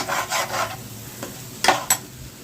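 Rice and lentils being stirred and fried in a pan for khichuri, a steady soft sizzle with scraping strokes of a spoon, and two sharper scrapes near the end, no talking.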